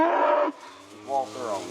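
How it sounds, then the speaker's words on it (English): Cattle moo as they are separated and sent through a lane to be loaded onto a trailer, one loud close low moo followed by fainter lowing sounds. "We'll separate the cattle and we'll send them through the lane"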